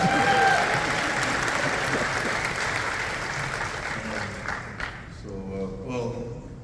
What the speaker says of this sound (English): You can clap, it's okay, yes.